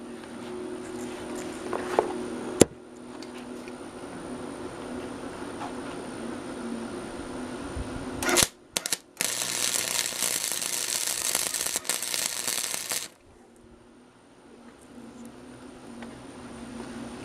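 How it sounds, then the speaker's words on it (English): Close-up welding of a nail onto a metal trap base: a steady crackling, hissing buzz that starts abruptly, stutters briefly, then holds for several seconds before cutting off, over a low background hum. "Now we're going to do our middle weld,"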